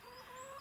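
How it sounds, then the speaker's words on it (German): A hen clucks once, briefly and close, a short tonal call from one of about six backyard chickens; this one is partly paralysed in the legs. "das ist mein Huhn"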